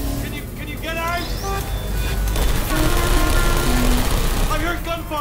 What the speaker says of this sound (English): I heard gunfire